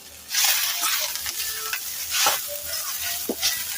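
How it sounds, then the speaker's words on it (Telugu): Curry leaves dry-roasting in a pan and stirred repeatedly, with close scraping strokes over a crackling sizzle and no voices. "ఇది కూడా డ్రైగా వేయించేసుకుందాము."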